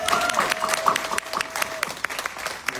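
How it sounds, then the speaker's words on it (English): Audience applause at a Juneteenth Houston press conference, a dense burst of clapping from a crowd with brief crowd noise and a faint voice mixed in, steady through the short stretch. "let's give John a big round of applause"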